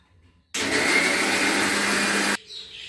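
A kitchen mixer grinder whirs loudly for about two seconds, blending green chillies and coriander with a little water into a paste, then cuts off abruptly into quiet room noise.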